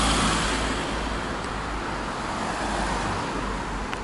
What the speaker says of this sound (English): Nice Skoda here.